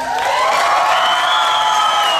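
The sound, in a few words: audience applause and cheering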